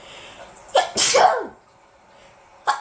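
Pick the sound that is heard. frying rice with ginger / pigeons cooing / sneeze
sneeze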